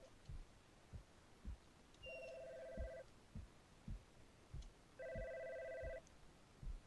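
A telephone rings in the video game God's Basement, two trilling bursts about three seconds apart, faint over a steady low thumping pulse like a heartbeat.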